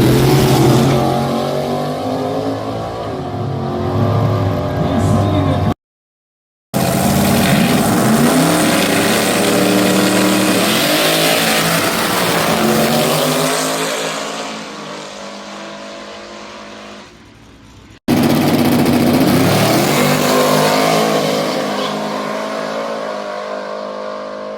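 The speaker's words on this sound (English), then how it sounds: "We were very surprised when the Mustang hooked and went and made a really great pass for that surface." Nitrous small-block Mustang drag car making a full pass, loud engine roar with rising revs and gear changes, briefly cut out then resuming, fading as the car pulls away.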